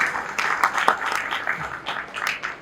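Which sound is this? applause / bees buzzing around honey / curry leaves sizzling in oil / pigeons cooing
applause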